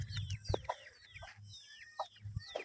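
A hen clucks close by in a hot Pakistani village yard while scratching up sown peanuts, giving short repeated clucks and squawks in an uneven rhythm with quiet gaps between.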